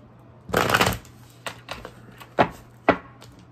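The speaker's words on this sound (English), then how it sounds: "Let's just shuffle them a bit here." Tarot cards being shuffled and riffled close by: a longer burst followed by several short, sharp flicks, with quiet gaps between.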